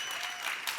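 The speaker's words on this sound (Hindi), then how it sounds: "एक बार गौहर और राजीव के लिए जोरदार तालियां।" A studio audience on a Hindi comedy talk show bursts into brisk applause. It is a short, bright burst of many hands clapping together at close range.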